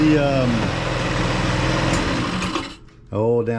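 A VIP scooter's small engine idles with a fast, steady buzzing putter close by, while someone talks over it at the start and again at the end.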